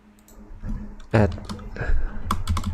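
Typing on a computer keyboard, with quick runs of soft key clicks in uneven bursts, close by, while someone speaks over it.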